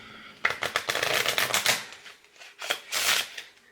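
A deck of cards is cut and shuffled by hand, a close, quick flurry of riffling clicks followed by a shorter second burst, with no voices over it.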